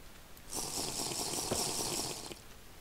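A water source block is placed in Minecraft, giving a steady rushing, splashing flow that starts suddenly, runs for about two seconds and then stops, with no talking.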